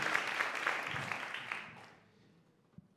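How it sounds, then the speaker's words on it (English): At a mayoral candidate forum, the audience claps for a little under two seconds. The moderate applause then quickly tapers off into near silence, leaving a single faint thump near the end. "Big round of applause."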